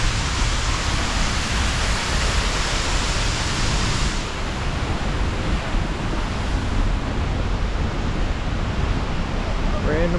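Seljalandsfoss in Iceland roars steadily from behind the falling curtain of water, a dense, loud, unbroken hiss and rush that fills the whole clip with no voices.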